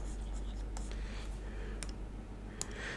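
Pen writing out a maths solution on paper, a soft continuous scratching with a few sharper clicks and taps, close and quiet over a steady low hum.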